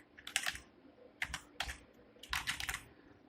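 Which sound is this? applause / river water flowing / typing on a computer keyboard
typing on a computer keyboard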